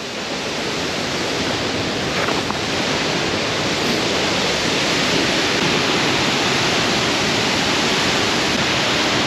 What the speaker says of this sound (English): the waterfalls are so strong